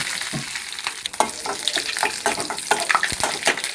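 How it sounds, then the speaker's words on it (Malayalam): Mustard seeds and dried red chillies frying in a tablespoon of oil for Kerala-style rasam, a steady loud sizzle with crackling pops and a light stir scraping through it, no voices. "ടേബിൾ സ്പൂൺ എണ്ണ, ഒരു 1/2 സ്പൂൺ കടുക്. അതിലേക്ക് കുറച്ച് വറ്റൽമുളക്"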